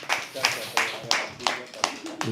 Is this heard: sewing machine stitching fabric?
no